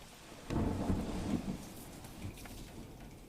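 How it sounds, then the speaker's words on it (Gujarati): Torrential rain with thunder over Lath village in the Upleta area of Rajkot, Gujarat: a deep rumbling thunder roll rises early and fades under the steady hiss of falling rain, with no voices. "ઉપલેટા પંથકના મજેઠી, લાઠ, ભીમોરા અને કુંઢેચામાં ભારે વરસાદ વરસી રહ્યો છે."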